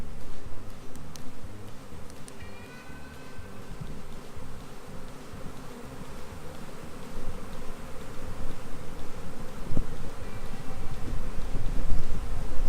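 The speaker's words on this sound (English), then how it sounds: "As you can see, there's a couple bees flying around me" Honeybees flying close around a beekeeper at an open hive, a steady buzzing drone that swells louder toward the end, with wind rumbling in the microphone.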